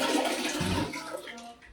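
A toilet in a luxury hotel bathroom flushes with a rushing, gurgling surge of water that fades over a couple of seconds, close and fairly loud.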